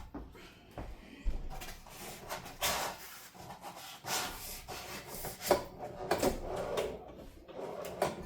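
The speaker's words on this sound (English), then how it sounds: "Take this packing material out of the drawer." Wooden desk drawer on an adjustable-height desk being handled, rubbing and sliding scrapes with knocks and rustling of packing material, close and moderately quiet.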